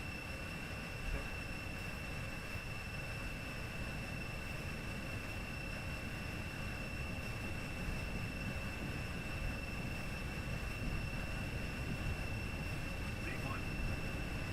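Airliner jet engines at takeoff thrust in Flight Simulator X, on a Gimpo to Jeju flight, give a steady, fairly quiet broadband roar with a faint high whine that holds unchanged throughout.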